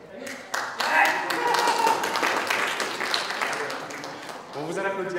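Scattered audience clapping at a trading live event, fairly close and irregular, with a voice talking over it near the end.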